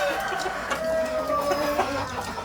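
Free-range village chickens (ayam kampung) on a farm, a dense continuous chorus of clucking hens with a rooster crowing amid the flock, close and fairly loud.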